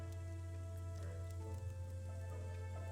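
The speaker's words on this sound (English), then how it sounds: "I think it's just freezing rain." Freezing rain falling outside during a winter cold snap, a dense steady patter under a strong constant low hum, with no voices.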